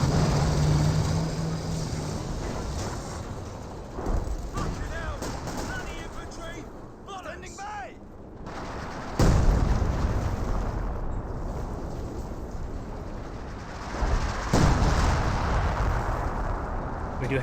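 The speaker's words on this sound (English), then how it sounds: "Artillery barrages onto that trench" Artillery barrage in Company of Heroes 2 pounds a trench, rumbling blasts and scattered gunfire with two sharp, heavy impacts standing out, under steady commentary from a man.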